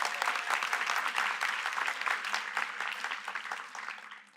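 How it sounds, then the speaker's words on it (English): Guests at a 2019 awards luncheon applaud in a full, steady round of many clapping hands that gradually eases off toward the end. "Can we give applause for Jan, please?"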